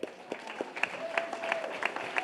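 A congregation at a Friday night Shabbat service claps, the scattered hand claps fairly soft and uneven, with a faint sustained tone running beneath part of the applause.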